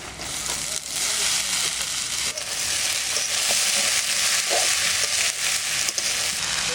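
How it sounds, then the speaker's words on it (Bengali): Leafy greens hit a hot pan with fried onion and garlic, giving a loud, steady sizzle and crackle that runs throughout with brief stirring scrapes. "পেঁয়াজটা ভাজা ভাজা হয়ে গেছে, এবার শাকটা দিয়ে দেবো।"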